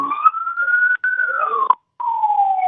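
A single-pitched siren wail rises, holds and slowly falls, breaking off twice briefly, clear and fairly loud with no voices, during a landslide evacuation in Cisarua, Indonesia.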